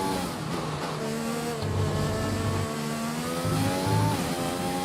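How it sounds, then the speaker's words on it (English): An F1 race car engine in the F1 2020 video game drones loudly and steadily, its pitch shifting as it changes down a gear, with a continuous rising whine and no talking. "I think it changed down by the sound of the engine."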